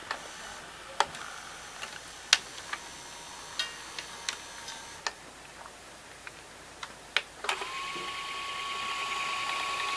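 Inside a Goldstar GHV-1210M VCR, the mechanism motors keep running after stop: scattered light ticks and clicks, then a steady thin whine that holds to the end, close and quiet.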